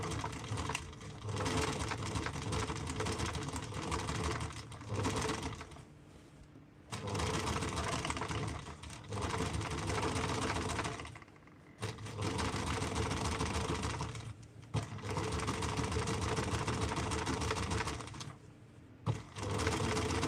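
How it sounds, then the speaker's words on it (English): A sewing machine runs in long steady bursts while understitching fabric 1 millimeter from the edge, a close rapid mechanical whirr broken by short pauses, with no talking over it. "For the understitching, I stitch 1 millimeter from the edge."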